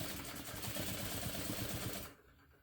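A sewing machine without a walking foot runs in a steady, fast, even whir for about two seconds and then stops, close and alone.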